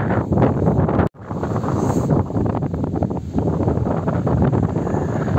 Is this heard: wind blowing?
yes